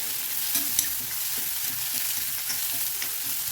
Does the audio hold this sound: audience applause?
no